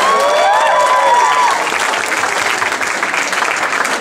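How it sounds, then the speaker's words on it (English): Audience applause in a crowd at an in-store event at Macy's in Union Square, San Francisco: steady, dense clapping mixed with some cheering, loud and continuous throughout, with brief whistles near the start. "can we get a round of applause for that statement?"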